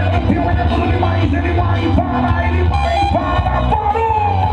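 A loud rodeo crowd at a horse-riding event in Indiaporã, São Paulo, yells and cheers continuously over dense, busy background noise, with no pauses throughout.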